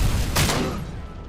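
Gunfire in RoboCop: Rogue City, a sharp close burst of shots early on that decays into a fading rumble, loud against a busy game background.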